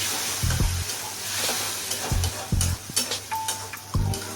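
Grated tomato going into a hot pan of fried onion, garlic and green chilli paste, with a wet sizzle and a few stirring scrapes in short bursts, close and fairly quiet.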